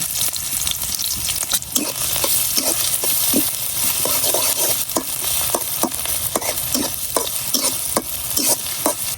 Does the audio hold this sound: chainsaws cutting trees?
no